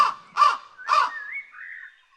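A crow in an animated Hindi children's story gives two harsh, close caws in quick succession, followed by a thin rising whistle-like tone trailing off, with no speech.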